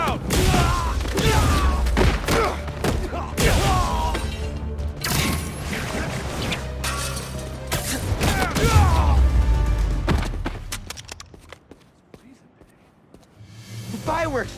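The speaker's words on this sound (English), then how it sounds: "The fireworks. They're lit." Fireworks going off in Spider-Man 2, with a rapid series of loud bangs, thuds and crackling bursts over busy action sound and talk. The noise dies down into near quiet before picking up again at the end.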